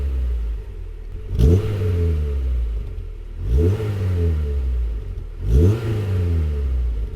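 A Honda CR-X engine revving repeatedly, three loud rising blips to high revs each falling back to a steady idle, close by with no talk over it.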